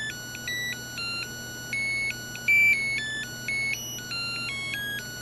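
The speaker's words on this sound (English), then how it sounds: "the new thing that we have is this little beeper" Small beeper on an ESP32 board plays a quick electronic tune of stepped square-wave notes, each held briefly with short pitch jumps, steady and fairly loud over a low constant hum with no talking.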